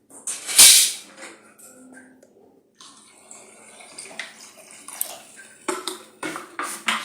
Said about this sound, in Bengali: আরেকটু দিব জল, আরেকটু লাগবে